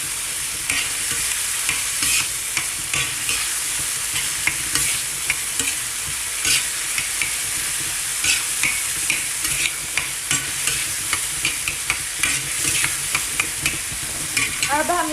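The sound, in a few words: frying fresh green and red chillies with beef on tawa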